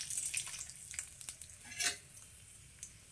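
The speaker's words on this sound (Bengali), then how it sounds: "তেলের মধ্যে প্রথমেই দিয়ে দিচ্ছি আমি দুটো শুকনো লঙ্কা, একটু ছোলা দিয়ে দিচ্ছি, কিছুটা ছোলার ডাল" Dried red chillies and chana dal frying in hot oil, a soft steady sizzle with a few light scrapes of stirring, close and quiet with no talking.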